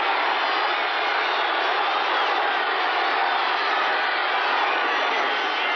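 A football stadium crowd at a 1981 Thanksgiving Bears at Cowboys game rises to its feet on third down and goal, a steady distant roar of massed voices holding throughout without distinct cheers standing out.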